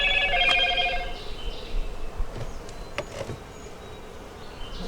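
Honeybees buzz steadily around a honey frame lifted from a nuc, a close, dense drone with individual bees whining past, and no talking.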